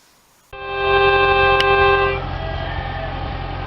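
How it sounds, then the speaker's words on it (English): Diesel locomotive number 62 at Sonoma Traintown Railroad sounds a loud, steady horn blast lasting about two seconds, followed by the rumble of the engine running by, with no talk. "I'm going to show you this run by that I have of diesel locomotive number 62"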